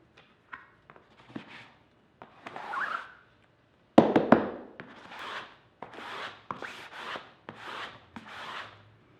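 Ink scraped across a thermofax screen while printing with water-soluble crayons: repeated rasping, rubbing strokes in bursts of about half a second, loud and close, with quieter scuffs and taps between passes, no speech.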